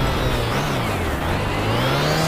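Lancia Delta S4 Group B rally car engine braking hard on a steep mountain road, a loud, steady mid-engine drone that dips in pitch and then climbs again close up, with no voices.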